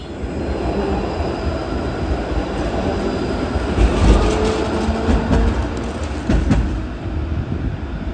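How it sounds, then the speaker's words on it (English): Toronto streetcar rolling past on city tracks, a loud close rumble of wheels on rail with brief metallic clanks and squeals that builds and then fades slightly. "It's really cool to have this streetcar system on a lot of these blocks."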